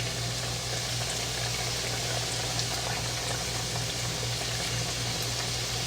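Homemade chicken tenders sizzle steadily in a hot skillet, a dense, even hiss and crackle that holds close and constant throughout, with no talking.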